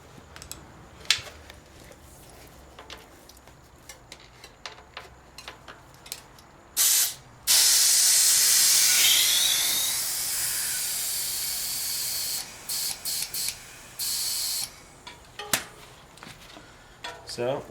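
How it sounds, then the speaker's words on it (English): Air compressor inflating a tubeless bicycle tire in a makeshift home setup, a loud steady hiss of rushing air running for several seconds, broken by brief pauses and short bursts of airflow. "So, I've got my compressor ready."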